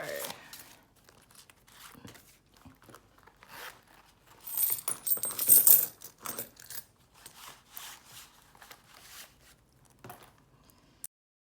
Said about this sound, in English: In my wallet, I'm also going to roll over all my coins and check.